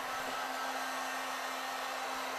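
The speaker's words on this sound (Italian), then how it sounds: "adesso ho un'asciugatina veloce con il phon" Handheld hair dryer blowing to dry stencil paint on a cabinet door, a steady loud whir with a constant hum running unbroken throughout.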